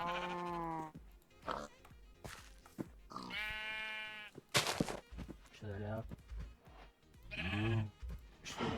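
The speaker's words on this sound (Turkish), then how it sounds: "Bir dakika bir dakika koyun var." Sheep bleating in the Minecraft video game, several bleats scattered between bursts of excited talk and game effects, fairly close and loud.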